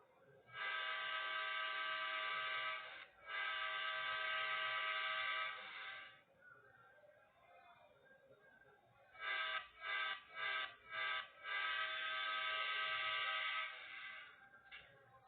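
A train in the Indian Bikes Driving 3D game sounds long, loud horn blasts: two sustained tones, then a run of short rapid toots and a final long blast, over a low rumbling background.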